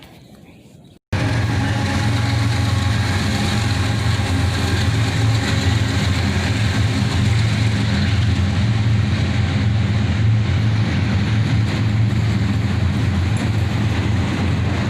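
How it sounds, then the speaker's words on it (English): A long CSX freight train of auto rack cars rolls past after a sudden onset, a loud continuous rumble with steady wheel and car noise sustained throughout, no talking. "This was a monster auto wreck train."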